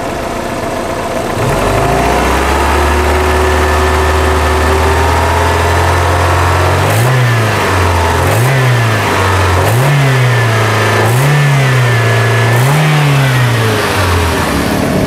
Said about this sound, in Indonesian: Oke, kita akan gas-gas untuk mesinnya.